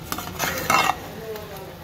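A spoon stirring a simmering seafood curry with crab, shrimp and flounder in a pot, giving a few close scraping, sloshing strokes with faint sizzling underneath.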